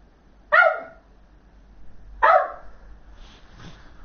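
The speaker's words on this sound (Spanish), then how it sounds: "Y ahora está mi perra aquí ladrando" A pet dog barking indoors during a live gaming stream, two loud, sharp barks about two seconds apart, followed by a faint softer yip, with quiet room hum between.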